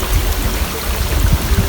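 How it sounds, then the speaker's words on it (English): A small mountain creek in the Wind River Range runs in a steady, close-up rush and babble with no other sounds. "Just a nice little creek full of fish."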